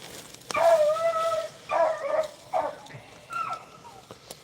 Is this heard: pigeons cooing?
no